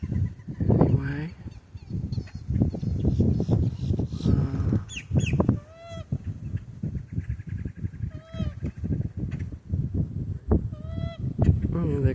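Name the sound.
coots calling at a wetland park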